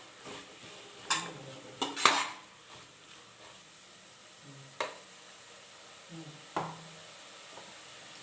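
Tomatoes fry in a pan for mushroom biryani: a soft, low sizzle runs throughout, broken by several sharp spoon-against-pan clinks and stirring scrapes, close and fairly quiet.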